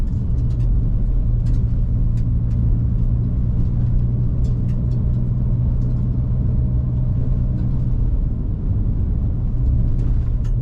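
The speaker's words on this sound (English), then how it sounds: "Going 60 on a dirt road, no problem." A 2024 Ford Ranger Raptor pickup drives steadily at about 60 on a dirt road, with a constant low engine rumble and road noise filling the whole stretch, with no talking.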